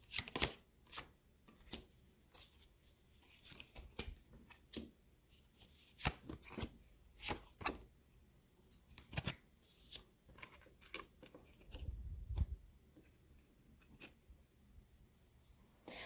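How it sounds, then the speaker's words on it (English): Tarot cards are laid out one after another as quiet, close flicks, slaps and slides in an irregular rhythm, with a softer low rustle near the end. No voices are heard. "let's get into your cards, Pile 3. I'm going to lay them out first."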